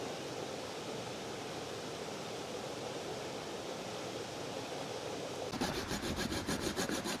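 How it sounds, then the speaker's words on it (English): A coconut is grated by hand outdoors while Jamaican ackee seasoned rice is cooked in the bush. Steady, close rasping scrapes continue without pause, then turn into faster, clearly rhythmic strokes near the end. "I go and get the coconut grated up"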